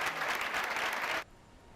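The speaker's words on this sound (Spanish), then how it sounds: "Con aplausos, así ha recibido la Asamblea de Médicos de Atención Primaria de Cantabria a sus delegados" An assembly of Cantabria primary care doctors applauds their union delegates, dense steady clapping from a crowd that runs for over a second and then cuts off abruptly.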